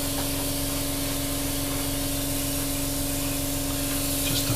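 An airbrush sprays a paint coat onto the wings of a Hasegawa 1/32 P-40 model, a steady, close hiss running without a break, over a constant electric hum and tone, ending with a faint scrape.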